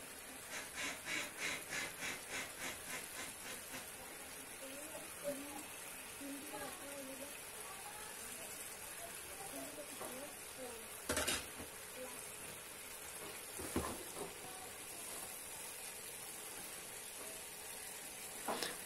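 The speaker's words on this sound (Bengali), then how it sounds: "মাছগুলো সব একে একে দিয়ে দিচ্ছি, ভেজে রাখা মাছটা।" Fried rohu fish pieces go one by one into a pan of simmering curry with a soft, steady sizzle, punctuated by a couple of dull thuds. A brief voice sounds near the start.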